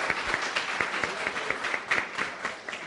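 An audience at a youth dialogue event gives a round of applause for a participant, with dense clapping and individual sharp claps standing out, fairly close and continuous throughout.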